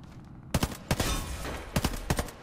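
Silenced gunfire in the online shooter Warface: a few quick paired bursts of close, sharp shots with short gaps between them, still fairly loud and crisp rather than muffled.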